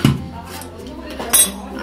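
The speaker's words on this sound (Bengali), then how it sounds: "কড়াইটা বসালাম বাঁধাকপিটা করবো বলে" A metal wok set down on a kitchen stove, one sharp clank at the start and a second clink a little later, both close and loud against quiet background.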